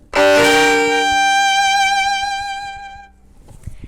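Played faster with shaped bowing, a three-note chord on a bowed string instrument sounds alone as a strong attack followed by a sustained, vibrato-tinged ring that fades out after about three seconds.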